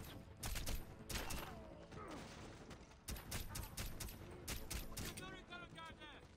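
Rapid gunfire in the stealth game Splinter Cell Blacklist, dense bursts of loud shots with impacts and a brief whistling ricochet, busy and close with a faint voice underneath.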